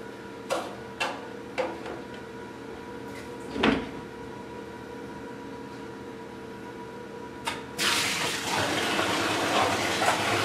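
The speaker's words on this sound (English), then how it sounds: "The trick this time is going to be starting the siphon with a tank half empty." Water siphoning out of a half-empty 300-gallon reef tank: a few sharp clicks and knocks at first, then a sudden, steady rushing gush of flowing water that carries on to the end, with no talking.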